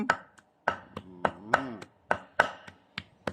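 Cleaver chopping meat for larb on a wooden cutting board, sharp loud thwacks in an uneven rhythm, about two per second, close up with a brief voice murmur between strikes.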